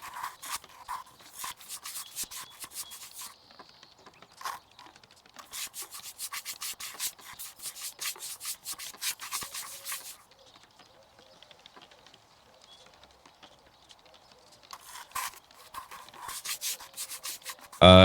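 Someone scrubs sticker residue off an old video game cartridge, making rapid close rubbing strokes in several bursts separated by quieter pauses, with no talking.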